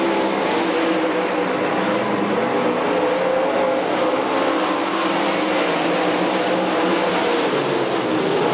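Modified race cars battle around Knoxville Raceway, producing a loud, unbroken roar of engines that holds steady throughout with no pauses.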